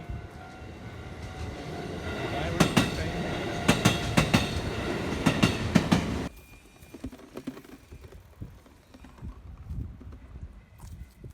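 A train rattles past with loud rhythmic clickety-clack of wheels over rail joints, close and steady for about six seconds before cutting off abruptly to quieter background noise.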